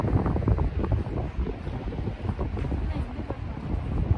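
Strong wind gusts at the Rasuwagadhi border crossing between Nepal and China, a loud continuous buffeting roar against the microphone throughout.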